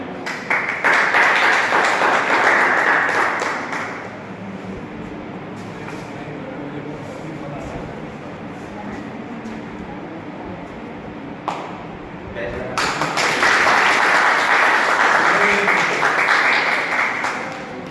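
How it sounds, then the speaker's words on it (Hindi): Audience at a college program clapping to welcome the chief guest, a burst of loud applause that fades under a speaker's voice, then a second strong round of clapping later. "स्वागत करें और ताली बजाएं"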